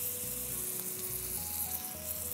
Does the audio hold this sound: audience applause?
no